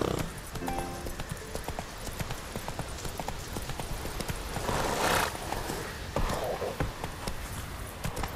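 Hooves of Roach, the horse in The Witcher 3 video game, clip-clop in a steady running rhythm with a whinny over it, against a busy outdoor background.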